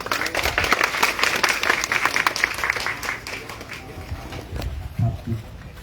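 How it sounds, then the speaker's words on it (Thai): Crowd applause at an outdoor local government welcome for a visiting minister in rural Thailand, loud sustained clapping from many people that slowly thins out, with voices talking over it. "ขอเสียงปรบมือด้วยครับ"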